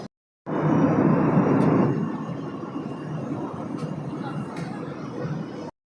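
Steady broadband roar inside an airplane cabin on a Kerala to Mumbai flight while climbing, louder at first and then settling into a constant even hum, with faint scattered sounds above it.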